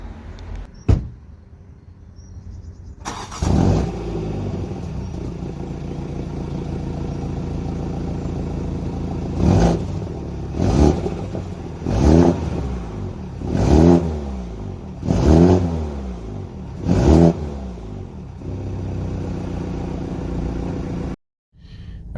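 A 2020 BMW 135i xDrive starts with a sharp crank and catches into a steady idle, then takes a series of about six quick blips of the throttle that rise and fall, before settling and shutting off.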